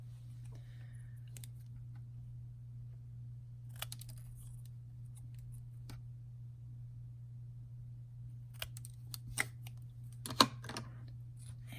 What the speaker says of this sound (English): and I'm going to snip the edges off.